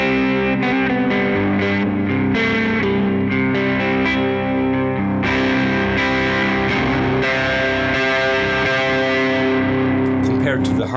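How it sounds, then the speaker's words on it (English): Electric guitar with its neck humbucker coil-split to single-coil mode, played through effects with some distortion, strummed chords and ringing notes, close and loud, with no talking. "We're in neck position, so this is now a single coil pickup."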